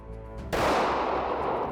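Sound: pistol shot at a shooting range

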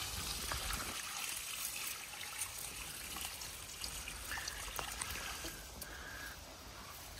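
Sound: water being poured onto a filter bed

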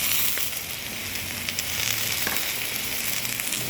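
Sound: mushrooms frying in a pan

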